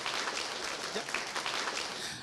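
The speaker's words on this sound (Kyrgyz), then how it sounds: "Анда Айнур эжеге бир кол чаап коелу." Faint, diffuse applause from an audience at a youth speaking event sounds as a soft, even patter of many hands, distant and steady with no clear individual claps.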